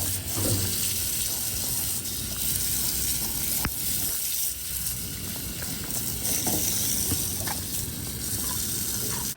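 A hose shower rinsing a horse's feet at the stable: continuous spraying, gushing water with splashing, steady and close, with a few faint knocks and thuds underneath.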